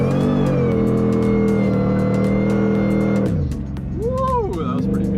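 A supercharged 5.4-liter V8 in a Ford F-150 Lightning SVT muscle truck pulls hard under acceleration, a loud sustained engine roar with supercharger whine that drops as it shifts, then climbs again from inside the cab.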